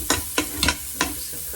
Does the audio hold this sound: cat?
no